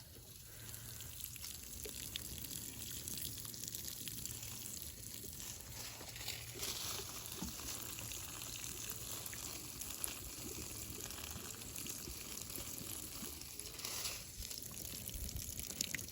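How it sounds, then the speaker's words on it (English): Steady hiss of water spraying continuously onto soil and leaves of newly planted rhubarb, with a faint low hum underneath and no talking. "I'm going to water these in."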